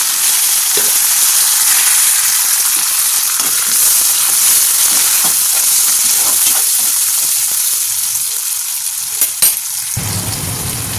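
Onions and curry leaves sizzle in hot oil in a pan while a capsicum, carrot and tomato curry is being made. The frying hiss is loud and continuous, then drops away near the end.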